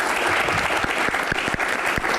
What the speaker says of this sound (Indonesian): tepuk tangan buat bapak-bapak bertiga